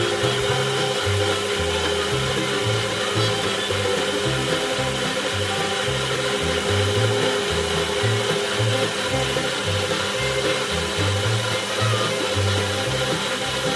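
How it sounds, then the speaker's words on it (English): A steady mechanical whir of a small South Bend-style metal lathe turning a shaft continuously, with a rhythmic low throb from the turning shaft and constant high-pitched hiss throughout. "this machine is really basically just a little miniature South Bend lathe"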